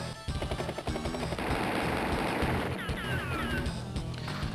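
Battlecopter attack in Advance Wars 2, a rapid burst of machine-gun style game gunfire with crashing impacts, dense and loud for several seconds.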